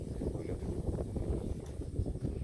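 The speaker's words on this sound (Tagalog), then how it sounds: "Mahampas ang hangin. Lakas." Strong gusting wind during heavy rain on a bypass road, a dense, continuous roar buffeting the microphone up close with uneven surges throughout and no talk.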